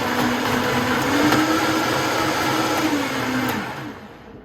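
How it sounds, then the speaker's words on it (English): A kitchen blender liquefying raw liver for a dog, a loud steady whirring roar with a slight pitch rise midway, then winding down at the end. "Put this in the blender"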